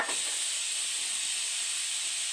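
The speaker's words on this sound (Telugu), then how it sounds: "మూడు విజిల్ రాగానే" A pressure cooker on the stove, with mutton curry inside, releases a continuous loud steam hiss with a thin high whistle tone running through it, unbroken for the whole stretch.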